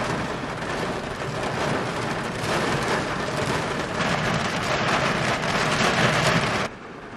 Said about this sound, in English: it's a torrential downpour